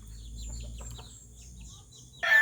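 Chickens and roosters cluck and chirp softly at feeding time in a backyard flock, a steady murmur of short calls, with a sudden louder rustle near the end.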